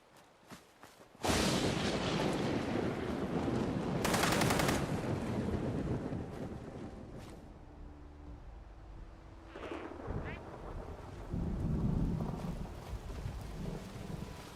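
Gunfire in Fallout 76 from another player opening fire, a loud sustained rattle of shots with a sharp burst around the fourth second, over windy outdoor noise with sporadic later shots.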